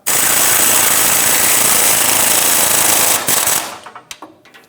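A bolt on the rear suspension trailing arm of a 1996–2002 Toyota 4Runner is tightened in one loud, continuous rattling burst lasting about three seconds, followed by a few fading clanks near the end.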